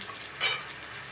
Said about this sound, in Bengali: ভাজার মধ্যে দিয়ে দিলাম দিয়ে একটু ভালো করে ভাজা ভাজা করে নিচ্ছি